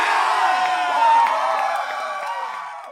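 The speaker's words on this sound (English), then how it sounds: "The city's inhabitants cheer their arrival on June 16" A city crowd in 1862 cheers and whoops as mounted troops arrive, a loud, dense roar of many voices with shouts rising out of it, holding steady before easing off slightly at the end.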